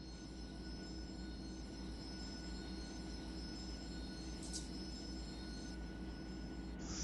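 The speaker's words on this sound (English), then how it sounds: "I can hear squealing too. Sounds like metal on metal." Train wheels squeal with metal-on-metal contact in the Run 8 railroad simulator game, a faint, steady high-pitched whine over a low continuous rumble, with a brief sharper squeal burst partway through.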